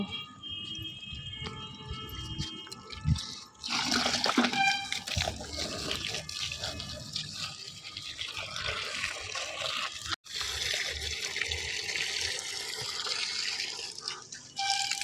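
Water is poured over dead eggplant plants in a home garden, a running splash and trickle that starts after a few seconds and continues steadily, with a short break near the end.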